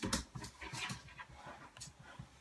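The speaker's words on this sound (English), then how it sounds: "sorry, I have the puppy today, say hello Dolly." A puppy pants in quick, rhythmic breaths broken by a few high, thin whimpers, close by and fairly quiet, with no talk.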